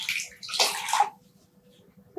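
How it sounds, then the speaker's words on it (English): Dyed yarn skeins lifted by their ties and squeezed, giving a brief wet sloshing and dripping burst of water, then quiet trickles. "I'll just pick up the skeins by the ties, squeeze out some excess water"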